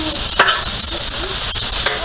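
Vegetables sizzle steadily on a Blackstone griddle while a spatula scrapes and stirs them, giving a few clear metallic clacks over the loud, constant frying hiss.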